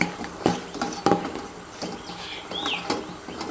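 A spoon stirs a homemade Dettol soap mixture in a container, giving a few sharp clinks and light scraping against the sides, close and fairly quiet, with no talking.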